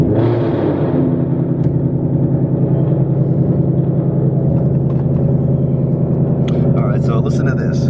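Ford Mustang GT V8 starting up loudly, settling into a deep, steady, close rumbling idle that continues throughout, with a voice talking faintly at the end.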